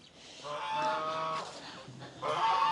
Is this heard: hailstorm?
no